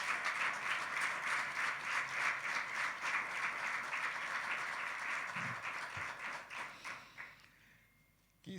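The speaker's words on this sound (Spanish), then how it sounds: "Denle un fuerte aplauso al Señor" A church congregation gives loud applause to the Lord during a Spanish-language service, sustained rhythmic clapping from many people that fades out toward the end.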